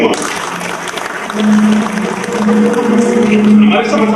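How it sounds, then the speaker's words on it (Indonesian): An audience at a religious lecture breaks into applause that swells after the first second and continues steadily, with a voice and a sustained tone over it. "Tepuk tangan dulu semua."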